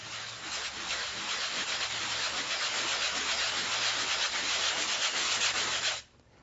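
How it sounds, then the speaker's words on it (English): Pieces of a moss-covered wedding bouquet stand are sanded together, a continuous close rasping rub that runs steadily and then stops abruptly near the end. "and sand them together so that it will sit nice and level"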